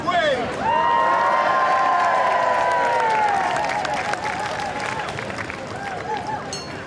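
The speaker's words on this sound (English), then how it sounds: "Windsor's town crier there, getting a cheer from the crowds who've gathered" A crowd gathered in Royal Windsor for the Queen's birthday cheers for the town crier, a loud sustained roar with whoops and whistles that slowly eases off.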